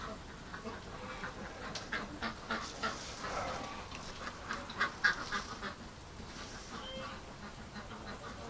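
Muscovy duck calling in short, scattered quacks and hisses against a steady background, fairly faint and irregular, with no talk over it.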